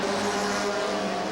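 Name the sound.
race car passing on track, Sunoco Firebird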